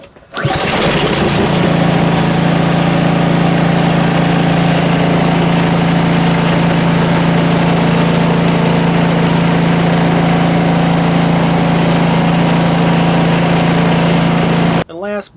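A Simplicity 1222EE snow blower engine starting after sitting for months, then running at a loud, steady idle close by with a constant hum before cutting off at the end.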